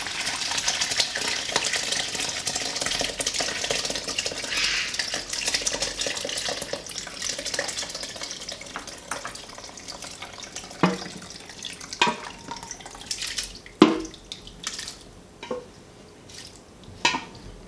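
Curdled milk pours steadily into a strainer for several seconds, then thins to scattered drips and splashes, close by and moderately loud.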